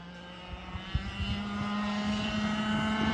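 Two-stroke engine of a small turbocharged go-kart with a 110–125cc motor, a steady buzzing drone that rises slightly in pitch and loudness, close and alone.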